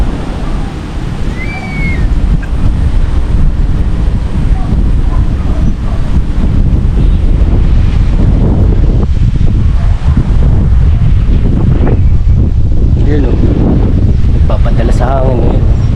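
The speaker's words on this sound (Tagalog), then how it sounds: "Lakas ng hangin sa taas." Strong wind over a rice field roars and buffets the microphone continuously, a loud broadband rush with gusts throughout.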